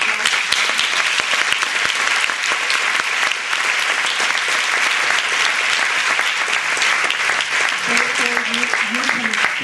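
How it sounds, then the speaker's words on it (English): A seminar audience applauds steadily and loudly for the whole stretch, with a few voices audible under the clapping near the end. "Por favor, vamos a darle un aplauso."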